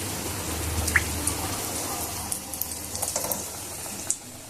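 Gaja sweets sizzle in hot oil with a continuous bubbling hiss, broken by a few small pops and crackles, heard up close.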